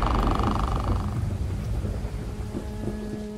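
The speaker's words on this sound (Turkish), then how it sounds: "Yağmurlu bir akşam." Heavy thunder rumbles over rainfall in the horror video game The Meat, loud at the start and then fading into softer rain with faint tonal hums.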